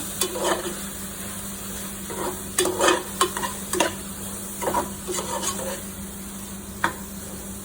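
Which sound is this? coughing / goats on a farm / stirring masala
stirring masala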